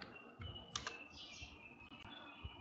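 Typing on a computer keyboard while coding in an online IDE, a few quiet, close key clicks scattered irregularly over a faint background hum.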